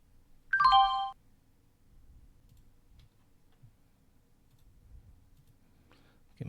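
A trading platform sounds a bright chime alert once near the start, ringing briefly before fading into quiet room noise with faint low rumbles.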